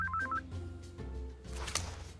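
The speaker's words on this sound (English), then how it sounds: "What's this? A distracting phone call?" Telephone ringing in the Cyanide & Happiness Freakpocalypse video game, a short run of electronic tone beeps followed by a louder burst of ringing near the end.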